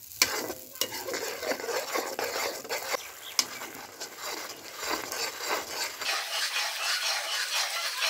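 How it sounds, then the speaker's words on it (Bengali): Onion, ginger, garlic and tomato paste gravy fries hard over high heat, a dense continuous sizzle with repeated scraping stirs of a spoon in the pan, close and loud. "আঁচটা একটু জোরে দিয়ে দেবো, দিয়ে এটাকে ভালো করে কষবো বন্ধুরা"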